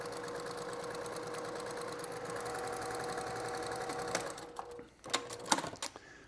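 Sewing machine stitching quilt fabric for a wonky fireworks block in a steady, continuous whirring run, then stopping into a few sharp clicks and handling noises.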